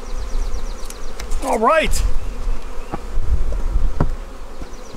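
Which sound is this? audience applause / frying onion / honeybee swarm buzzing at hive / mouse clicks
honeybee swarm buzzing at hive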